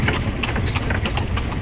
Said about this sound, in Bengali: আওয়াজ তো শুনছো ঘোড়ার গাড়ি?